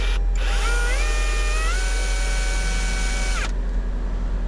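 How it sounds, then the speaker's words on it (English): A cordless power drill whirs while backing out screws inside a 2022 Toyota Sienna, a steady high whine that rises in pitch, holds for a couple of seconds, then cuts off abruptly over a low background hum. "So you're gonna be removing the 2 screws."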